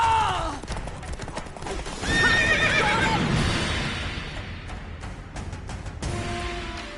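Roach, the horse in The Witcher 3, whinnies loudly and close while hooves thud in a fast gallop, with scattered clattering and rushing ambience under the run.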